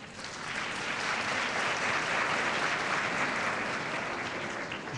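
Dense, sustained audience applause at a university graduation ceremony in Gatineau, an even wash of many hands clapping throughout, moderately loud and filling the room.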